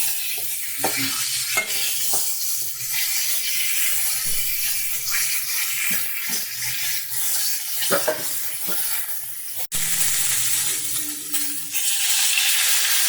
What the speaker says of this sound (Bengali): আলু আর ফুলকপি সুন্দর করে ভাজা করে নেব